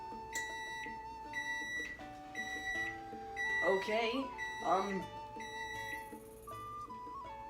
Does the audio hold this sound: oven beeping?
yes